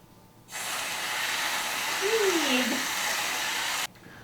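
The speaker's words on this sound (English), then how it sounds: "Whipped cream." Whipped cream hisses out of an aerosol can onto a peanut butter shake in one steady spray of about three seconds, close and fairly loud, with a faint sputter near the end.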